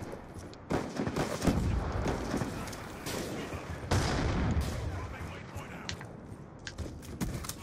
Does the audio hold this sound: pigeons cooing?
no